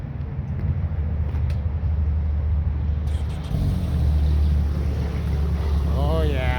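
A 2021 Can-Am Maverick X3 X RS Turbo RR engine starts and settles into a loud, steady low rumble, with a rising whine near the end, heard up close amid wind noise.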